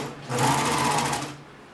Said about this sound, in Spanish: Estoy cosiendo con hilazas, hilazas de nylon que estiran.